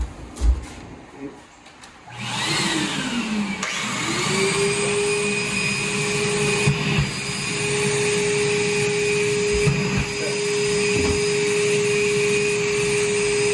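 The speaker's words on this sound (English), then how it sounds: "Vacuum on." A vacuum starts up about two seconds in and runs loud and steady with a high whine, beside paint-shaver stripping of a wood window sash; before that there is only brief quiet handling noise.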